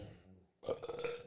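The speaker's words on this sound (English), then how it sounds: "I didn't mean to give us a burp." A single loud, close burp erupts after a brief hush, rough and drawn out for about half a second.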